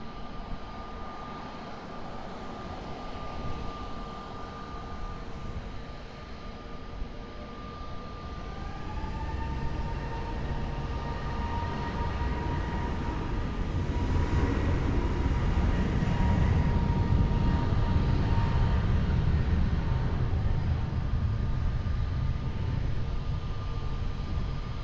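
An Air Portugal airliner takes off from runway 20 at Lisbon Airport, its engine roar building steadily from a moderate rumble to a loud, sustained broadband roar with a faint whine, heard from a distance without voices.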